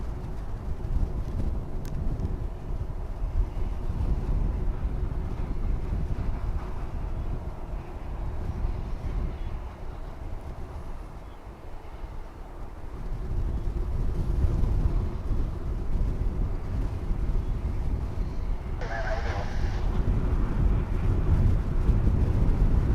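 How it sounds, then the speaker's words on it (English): Wind blows across Dallas Fort Worth airport during plane spotting. It makes a low, rumbling buffet against the microphone that swells, dips briefly, then picks up strongly again, with no voices. "Wind is picking up here."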